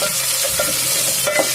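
Sliced onions with ginger-garlic paste fry in hot oil in a pan, a steady close sizzle with a few soft stirring scrapes and no voices.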